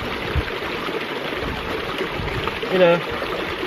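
A small, fast-flowing mountain stream rushing over rocks, a steady broadband wash of water throughout with a brief louder surge near the end, while a person talks over it.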